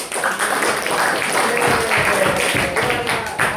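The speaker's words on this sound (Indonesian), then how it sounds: "Kelompok 2 tepuk tangan." Students in a high school classroom applauding group 2 after a biology lesson, a loud, close burst of many hands clapping in a quick uneven rhythm throughout, with faint voices mixed in.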